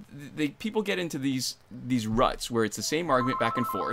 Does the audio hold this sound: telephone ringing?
yes